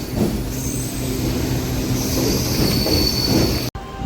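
A MEMU passenger train running from Machilipatnam to Vijayawada, heard from inside with loud continuous rumble, wheel squeal and rattling clatter, steady throughout before cutting off abruptly near the end.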